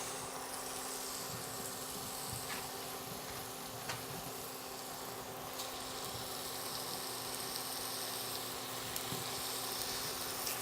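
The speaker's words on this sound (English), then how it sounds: "let the bacon cook until it renders its fat" Bacon sizzles in olive oil in a heavy purple Le Creuset 5-quart Dutch oven, a steady, close crackle and hiss running throughout with no voices.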